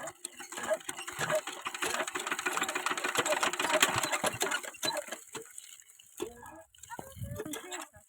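A water pump's engine being started on a cold winter morning gives a loud churning, rattling burst that runs several seconds then dies away, followed by a few short knocks with voices nearby.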